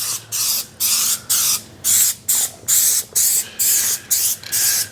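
A spray paint can hisses white paint onto wheel rims in eleven short, even bursts with brief gaps between them, loud and close.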